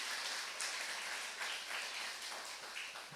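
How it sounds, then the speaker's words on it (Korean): Church congregation at a Sunday worship service applauding, a steady wash of many hands clapping together at moderate level, filling the space without voices on top. "우리 박수 한번 쳐줄까요?"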